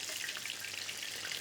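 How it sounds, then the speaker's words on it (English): Fish goujons frying in hot oil give a steady, dense crackling sizzle, close and continuous, with no talking. "The first one is frying, and the other one's sort of like a plinkety-plonkety sound."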